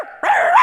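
A woman imitates a dog's bark with her voice: one loud, close, drawn-out yelping woof after a brief quieter lead-in, alone with no other talk.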